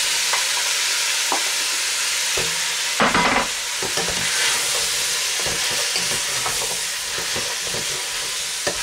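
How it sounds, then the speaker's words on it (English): Ginger, peppers and onion frying for a pork and bean pepperpot, a loud continuous sizzle and hiss with intermittent scraping stirs, one burst of clatter partway through. "Stir and cook that for a couple of minutes until the onion starts to turn translucent"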